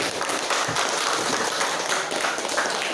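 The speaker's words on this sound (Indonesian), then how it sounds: "silakan tepuk tangan sambil berdiri" Students in a junior high school classroom applaud while standing, a dense, steady wash of many hands clapping at close range for the whole stretch, with no talk over it.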